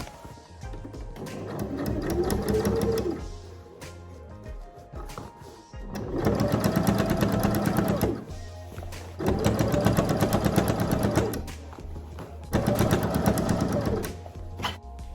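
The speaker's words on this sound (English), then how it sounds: "I'm going to fold it together and sew like this" Sewing machine stitching skirt fabric in repeated runs of steady whirring, three to four bursts of a few seconds each separated by brief pauses, fairly close and loud, with no talking.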